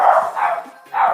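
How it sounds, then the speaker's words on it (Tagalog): A dog gives three close, loud barks in quick succession, at a fish landing, with no voices during the barking. "Ang ingay ng aso"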